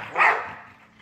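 A single short bark from a large, heavy-boned dog, moderately close and alone, fading quickly.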